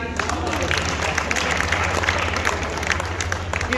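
An audience at a national poetry recital applauds, producing steady, fairly loud clapping that fills the moment, with some voices underneath.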